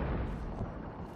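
A distant explosion in the game Hunt: Showdown, a brief muffled low boom with a rumbling tail.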